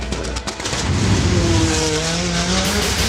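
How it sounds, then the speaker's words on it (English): A race car runs the orange Hot Wheels double loop stunt track. The engine roars loud and close, its pitch shifting steadily with faint tire squeal, and no voices are heard. "You put him in that car and you send him down that orange track"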